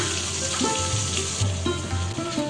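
Finely chopped onions, two large ones, sizzle and crackle steadily in a hot pan while cooking Udupi masala rice, close and continuous, with faint stirring knocks and a low hum underneath.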